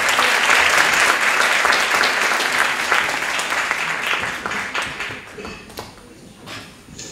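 Applause from a concert audience at a memorial concert, a loud sustained crowd clapping that gradually thins and fades toward the end, with a few scattered claps trailing off.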